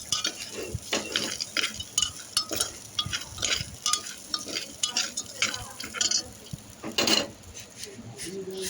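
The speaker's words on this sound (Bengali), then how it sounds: "প্রথমে সব রকম ডাল দিয়ে একটু নেড়ে নিচ্ছি।" Mixed lentils for an oil-free butter khichuri are stirred in a pot, a utensil scraping and clinking in repeated uneven strokes, close and moderately loud, with a brief louder scrape near the end.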